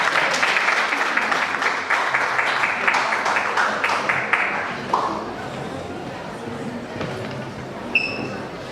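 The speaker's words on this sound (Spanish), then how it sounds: "Saludamos entonces con un fuerte aplauso a la doctora Falk." Loud applause from an audience at a human rights public policy event fills the first half, dense and close, then thins out and fades into room noise with a few stray claps near the end.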